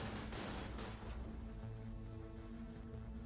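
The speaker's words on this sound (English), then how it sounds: "rattle off a few rounds from the machine gun into the target" Rapid machine-gun rounds rattle out in a dense, continuous burst from a mech's weapon in the video game Cryptark, loud and close with no pauses and no talking.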